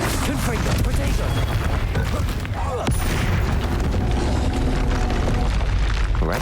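Confringo fire spell blasts in the Hogwarts Legacy game, a dense run of booming bursts and crackling impacts over continuous combat noise, with voices in the game talking alongside.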